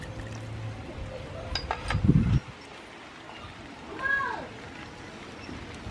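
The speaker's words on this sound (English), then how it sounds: "Add fish sauce." Fish sauce is poured into a pot of water lily sour soup in a short, close splash of liquid, followed by faint kitchen noises.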